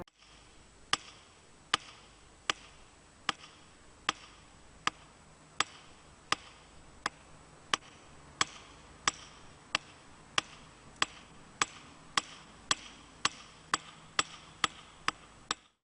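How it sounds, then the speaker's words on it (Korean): In an artwork video, a handheld hammer strikes a projected shadow on a surface. Sharp, evenly spaced knocks, about two dozen, repeat at a slow, steady beat over a low hum. No voices are heard. "비춰진 제 그림자를 제 손에 들린 망치로 그냥 치는 거예요"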